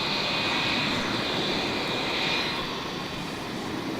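Aircraft arriving at Melbourne Airport at night, a continuous rushing jet roar with a thin high whine, steady and fairly close, easing slightly toward the end.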